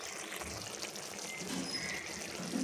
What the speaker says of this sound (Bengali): এবার এগুলো একসঙ্গে ঢেলে দিলাম